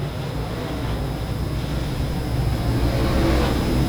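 Race cars roar around the Monarch Motor Speedway dirt track, a continuous engine drone that swells slightly louder toward the end, heard at a distance.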